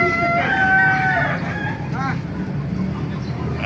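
A Hiraw and Golden Boy Sweater gamefowl rooster crows nearby at a Baliuag tyangge market, one strained crow followed by clucking, with background chatter and a voice speaking around it.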